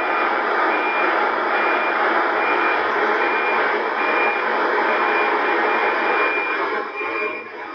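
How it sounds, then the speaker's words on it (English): A NOAA weather satellite signal comes through on a VHF/UHF scanner radio as a steady, dense hiss with a constant high tone running under it, unbroken and fairly loud. "here you can hear the ping from the NOAA satellite"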